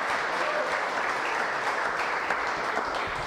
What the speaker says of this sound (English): How about a big round of applause for you guys?